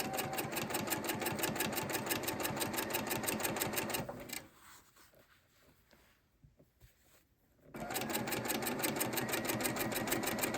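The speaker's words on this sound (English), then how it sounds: "sew following that line instead of your 1/4 inch on your foot" A sewing machine stitches a skinny strip of quilt fabric for fine-line quilt block piecing. It gives a fast, even mechanical chatter nearby, then stops for a few seconds of quiet handling before it runs again at the same steady rate.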